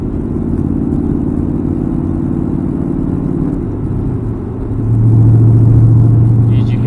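Ford Mustang with an extremely loud aftermarket exhaust, rumbling deeply at cruise, then shifting from fifth to sixth gear, where the drone drops into a lower, heavier, sustained boom.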